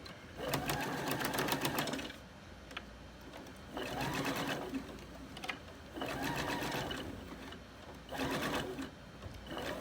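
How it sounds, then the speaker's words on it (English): A sewing machine stitches a seam on a fabric hair scrunchie in four separate whirring bursts, each a couple of seconds long, with quiet pauses between them. The machine is close and fairly soft. "Using a 5/8 seam allowance, I'm going to go ahead and stitch that together."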